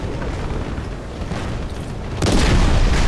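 A vehicle explodes in the Battlefield Play4Free game on the Gulf of Oman map: a low rumble of background noise gives way to a sudden loud, heavy boom that swells and sustains to the end.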